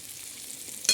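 Bitter gourd pieces sautéing in oil in a pan with turmeric and salt, a soft steady sizzle ending in a brief scrape of stirring.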